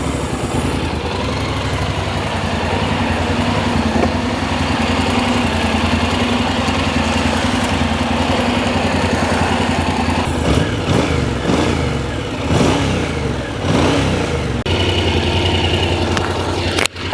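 A Honda NC750X motorcycle engine idles in neutral with a steady low rumble, then is revved several times in quick, rising bursts before settling, close and loud.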